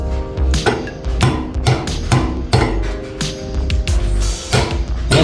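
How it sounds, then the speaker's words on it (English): A soft hammer knocks a part into place during a rotary engine rebuild, with about ten sharp, close taps in an irregular rhythm over a low background hum. "use your soft hammer if you can't get it in"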